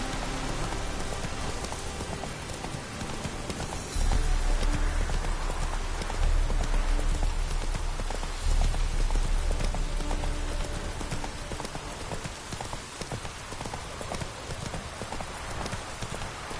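Horse Roach in The Witcher 3, hooves clip-clopping steadily over a wet ground in rainfall, with a constant hiss of rain under the hoofbeats.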